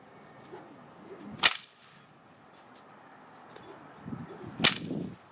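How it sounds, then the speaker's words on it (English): A bullwhip performing a cattleman's crack snaps twice, each a sharp, loud, close crack, about three seconds apart, with quiet rustling between and no talk. "So here's what the Cattleman's crack looks like."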